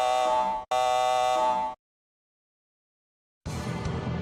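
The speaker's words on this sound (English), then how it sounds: "Warning. Activating alarm system." A security alarm system activates in the video game Star Ocean, sounding two loud, harsh buzzer blasts separated by a short gap, followed by silence and then another noisy burst.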